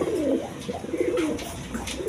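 Coloured garra pigeons coo close by in soft, bubbling rolls, several birds overlapping in an uneven rhythm, with a few brief sharper sounds mixed in and no voices.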